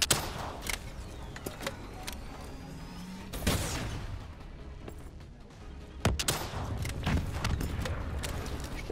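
Gunfire in the video game Call of Duty Black Ops 3: sharp single shots spread over the clip, with a burst of loud noisy blasts around the middle and another cluster near the end, over steady game ambience.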